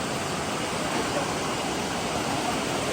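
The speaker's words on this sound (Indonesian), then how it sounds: "Ini air terjunnya guys." Curug Lawe waterfall near Ungaran roars in a dense, constant rush of falling water, loud and close, with no break or talk over it.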